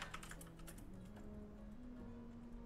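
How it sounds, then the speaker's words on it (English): Quick keystrokes tap on a computer keyboard in a short, faint burst near the start, leaving a quiet background hum with a few soft tones. "let me type to a friend of mine"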